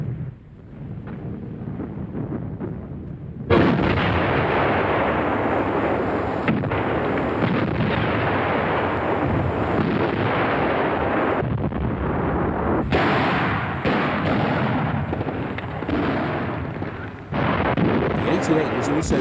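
German 88 mm flak gun firing, with heavy booming artillery reports and rolling blasts that fill the air, several shots over a sustained roar, loud and distant-sounding, with narration under the barrage.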